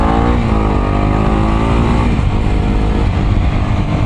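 A Kawasaki Ninja 250SL motorcycle on its first road ride, its engine loud and close as it revs up and shifts, the pitch rising and then dropping through a gear change under steady wind rush.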